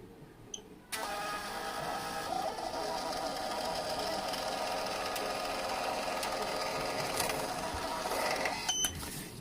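An all-in-one thermal printer runs a test print with a steady, continuous mechanical whir for about eight seconds, ending with a faint click.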